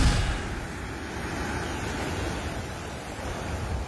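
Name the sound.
strong sea waves crashing during Typhoon Leon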